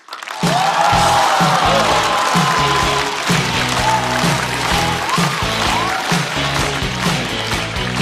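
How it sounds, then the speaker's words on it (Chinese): An audience at a stand-up comedy show breaks into sustained applause to welcome a comedian, a dense, steady wash of clapping that holds for several seconds. "掌声欢迎孙书恒"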